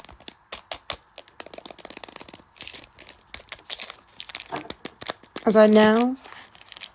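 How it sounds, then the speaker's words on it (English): Snack bag torn open: brief crinkly plastic rustles and crackles scattered under close talking, ending in a short louder burst of voice near the end. "rip open and devour some of my snacky snack along the way"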